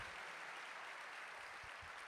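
A church congregation applauds during a family worship service. The clapping is a steady, faint wash of many hands that holds evenly for the whole stretch, with no voices over it.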